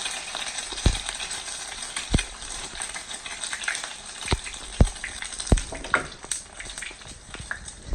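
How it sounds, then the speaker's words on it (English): An egg frying in hot oil for Thai holy basil chicken (pad kaprao) gives a steady crackling sizzle with sharp pops scattered through it. No one speaks. "You just got to heat up this oil, throw in the egg for about 20-30 seconds"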